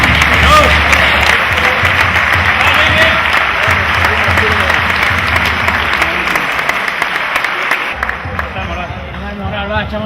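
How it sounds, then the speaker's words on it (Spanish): A crowd at the closing event of a Bonaire festival applauds loudly and continuously at close range, with cheering voices and babble mixed into the dense clapping. "Vamos a aplaudir a la gente, venga."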